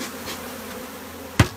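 Honeybees buzzing at a hive in Australia while a beekeeper works a new nucleus colony: a close, steady insect drone ending with one brief sharp knock.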